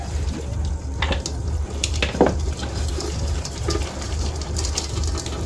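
Rice being stir-fried with kimpe in a pan over a steady cooking hiss, with occasional scrapes and clinks of the utensil against the pan.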